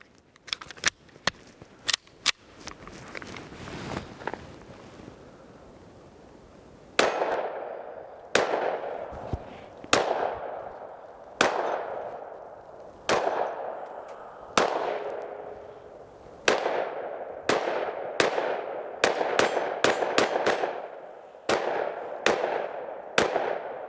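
A Smith & Wesson M&P 5.7 pistol fires Fiocchi 40-grain ammunition outdoors, with a string of sharp, loud, close shots at a steady pace and each crack ringing briefly, plus a few quicker shots near the start.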